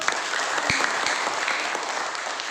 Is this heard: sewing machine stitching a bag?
no